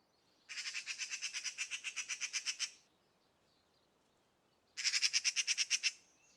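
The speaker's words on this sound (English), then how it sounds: "Geez, that's a loud bird." Two bursts of a loud bird's rapid, rhythmic squawking come up close in the Russian Fishing 4 fishing game at the Sura river, a pause between them and no talk over the calls.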